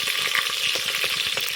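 Byadgi chillies and curry leaves crackle and sizzle in hot oil, a sambar tempering, with a steady dense frying hiss and small irregular pops throughout, close and alone.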